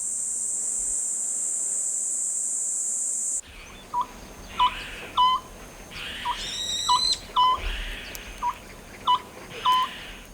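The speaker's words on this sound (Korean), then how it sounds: "밤나무 구멍에는 소쩍새가 자리를 잡았습니다." A Eurasian scops owl calls at night in a forest, a repeated short, clipped note sounding at a slow, regular interval after a sudden cut from a steady high whine, with faint insect chirring in the background.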